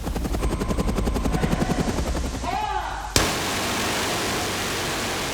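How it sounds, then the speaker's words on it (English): A helicopter's rotor chops loudly and steadily close by, the throbbing pulses giving way abruptly to a sustained roaring wash of noise. "to fly a helicopter down the front of a building"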